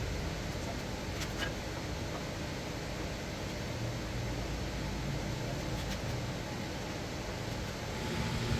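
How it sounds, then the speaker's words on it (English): Steady broadband whoosh of fans running in a woodworking workshop during a chair stretcher and rail repair, faint and constant throughout with a few soft knocks. "The noise you hear in the background are the fans running."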